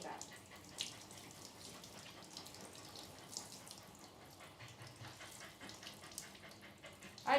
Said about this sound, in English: It's really quiet, isn't it, the water flow?